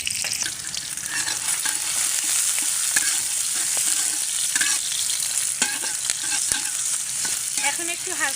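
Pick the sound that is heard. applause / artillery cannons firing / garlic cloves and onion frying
garlic cloves and onion frying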